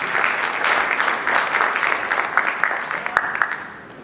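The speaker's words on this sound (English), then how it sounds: "Let's give her a round of applause." An audience at the Kenya National Food Systems Summit gives a round of applause for the next speaker, a sustained, even clapping from a large crowd that eases off toward the end.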